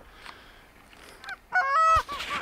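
Wild geese honk as they fly in during a New York goose hunt, several close, loud honks rising toward the end after a quieter stretch with softer distant calls.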